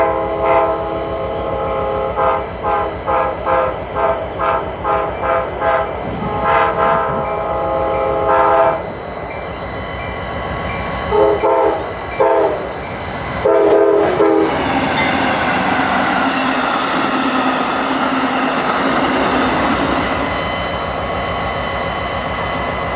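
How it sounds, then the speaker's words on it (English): Amtrak 97, a passenger train bound south from New York City to Miami, sounds its horn in a series of loud rhythmic blasts, then roars past with rumbling wheels and rail clatter that gradually fades. "The first one being yet another Amtrak train, Amtrak 97, racing south from New York City to Miami."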